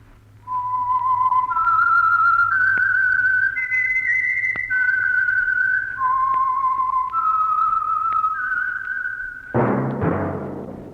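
A lone whistler carries the signature melody of The Whistler, the Signal Oil mystery radio drama, in steady sustained notes that step up and down, loud and clear, before a brief orchestral burst enters at the end.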